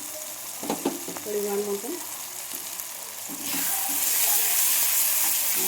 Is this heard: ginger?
yes